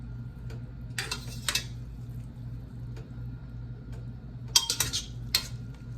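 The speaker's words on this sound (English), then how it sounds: "Take these noodles and just transfer them over." Metal utensils clink and scrape against a pot and skillet as cooked noodles are moved across for a home veggie pasta, a few sharp clatters over a steady low hum, close by with no talking.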